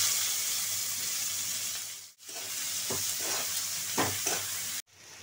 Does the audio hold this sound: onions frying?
yes